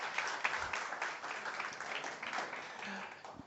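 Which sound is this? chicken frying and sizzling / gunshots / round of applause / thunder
round of applause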